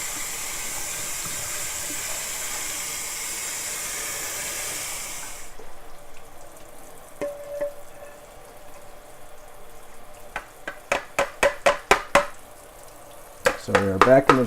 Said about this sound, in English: Now I've preheated this water, so it's hot immediately, and I'm just going to give it a real good rinse.